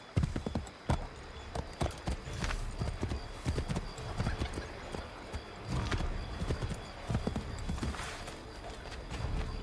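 Horse hooves clip-clop in the Assassin's Creed 3 video game, a close, busy run of irregular hoof strikes over a faint background wash, with no talking.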